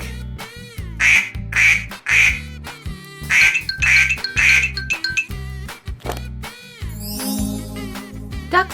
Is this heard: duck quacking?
yes